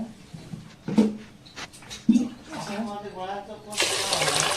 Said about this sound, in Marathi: आपण धुवून घेऊ पाणी घालून चांगलं स्वच्छ